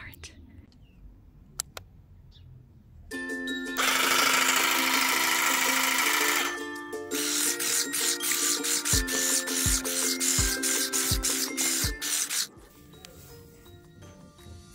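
An electric trimmer cuts plants in a backyard: a steady motor buzz starts after a quiet moment and holds for several seconds, then comes a run of short, rhythmic cutting pulses before it stops, loud and close.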